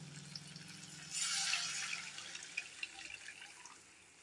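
Water is poured into a pan holding a garlic, chilli and turmeric tempering to rinse it out for Bombay chutney. A short, soft splashing pour is followed by faint trickles and drips, quiet and close.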